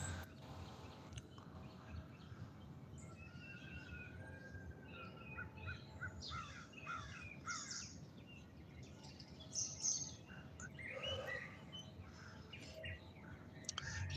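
Crows call outdoors in the morning, faint and scattered, mixed with other distant bird chirps over a quiet background hiss.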